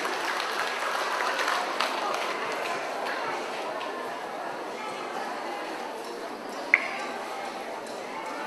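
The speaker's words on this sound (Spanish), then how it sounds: "El aplauso bien fuerte, fuerte para la quinceañera," A crowd at a quinceañera gives sustained, steady applause, a dense wash of clapping that continues for several seconds with a single sharp clap standing out near the end.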